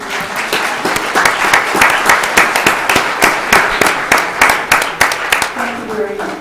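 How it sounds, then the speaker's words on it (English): Audience at a school district governing board meeting applauds steadily, a dense, loud burst of clapping from many hands sustained for several seconds. "Please give me a hand of applause for Mason."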